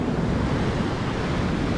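Big ocean waves break on a beach in Sri Lanka as a continuous, close roaring wash of surf, steady and loud with no voices present.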